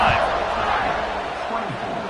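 A football stadium crowd roars and cheers steadily after a scoring drive, a dense wash of noise with no breaks that stays loud and sustained throughout.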